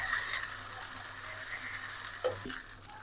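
Ginger, garlic and cumin paste fries in hot oil with fried onions and green chillies, a moderate sizzle broken by stirring scrapes and a few utensil knocks near the end.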